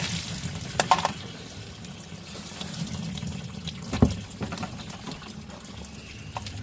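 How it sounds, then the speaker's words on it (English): Tap water runs steadily over a plastic tumbler lid being rinsed at a sink, a continuous close splashing stream with a few brief knocks of the lid against the basin. "Rinse off the lid."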